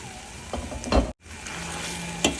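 A spatula stirs a Shravan ghevda bean curry in a pan, with soft scraping strokes and a gentle sizzle that peak around the middle, drop out for a moment, then return to a quieter simmer with one more scrape.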